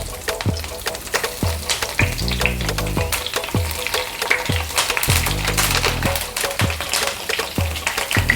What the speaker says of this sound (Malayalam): ഫ്രൈ പാൻ വെച്ചിട്ട് കുറച്ച് വെളിച്ചെണ്ണ ഒഴിച്ച് ചിക്കൻ നമുക്ക് ഫ്രൈ ആക്കിയെടുക്കാം.